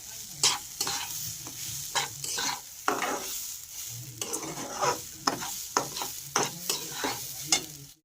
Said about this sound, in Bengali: চালটা আমার প্রায় ভাজা ভাজা হয়ে গেছে।